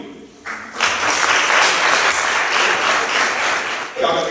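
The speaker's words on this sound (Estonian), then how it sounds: "Ja teeme veel ühe suure aplausiga Pillele" Loud applause from an audience at the Popp Tipp – Popp Täpp 2018 awards event, a dense burst of clapping that swells after a brief pause and carries steadily for several seconds.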